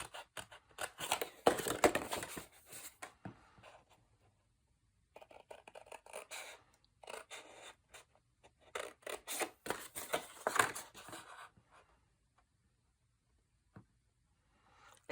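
Scissors snip through patterned cardstock along a scored line while an explosion box is assembled, giving bursts of close, crisp rasping cuts separated by short quiet pauses.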